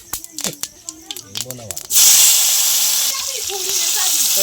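Speech gives way to a loud, sudden sizzle of whole cumin and cardamom hitting hot oil, a steady hiss that settles slightly lower but continues.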